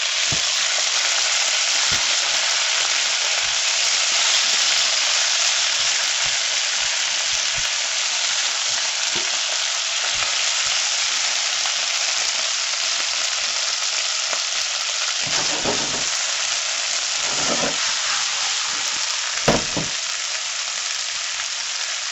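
Vegetables sauteing in a pan for an egg sandwich, a steady close hiss and crackle with occasional stirring scrapes as tomatoes go in.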